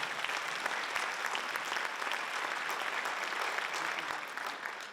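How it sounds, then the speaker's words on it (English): At a Teacher of the Year awards ceremony, an audience gives the musicians a round of applause: a fairly quiet, steady wash of many hands clapping that holds evenly for about five seconds. "So a big round of applause for all those folks."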